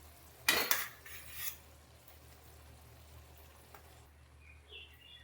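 Rice is tipped into a cooking pot and spread out for prawn rice, a short loud clatter and scrape of grains against metal followed by a few faint scraping touches in a quiet room.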